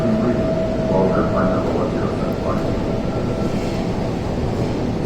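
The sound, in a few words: Kochi Metro train running on cantilever bridge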